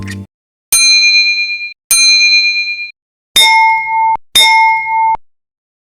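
Bell strikes from the game GTA San Andreas, four clear ringing dings: two bright higher chimes, then two lower, fuller clangs, each sustained for about a second and separated by silence.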